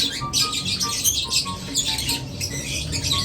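African lovebirds squawk loudly and repeatedly in bursts of harsh, raspy calls close by, the cries overlapping almost without pause.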